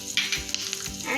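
Mustard seeds, cumin and hing sizzling in hot ghee for a curd rice tempering, a brief close crackle and spit with no talk.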